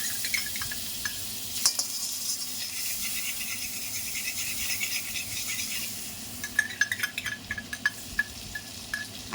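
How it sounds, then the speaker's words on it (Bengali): Two spoons each of butter and ghee sizzle in a kadai for fried rice payesh: a constant bright hiss, with quick stirring rattles and clicks growing busier toward the end, no voices. "এখন আমি এই মাখন আর ঘি, এটা মিক্সড করা আছে, 2 চামচে ঘি, 2 চামচে মাখন, এটা আমি দিয়ে দিলাম।"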